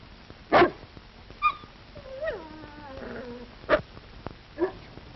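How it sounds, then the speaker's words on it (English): A dog whimpers and yips in an old 1938 Yukon film soundtrack, a few short sharp yelps spaced apart with a drawn-out whining whimper in between, moderately close and fairly loud, with no talk over it. "That looks like the dog I saw you feeding at the game warden's grave."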